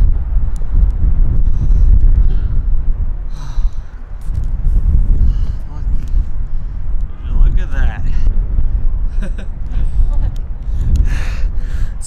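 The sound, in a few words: cold wind blowing at Sylvan Lake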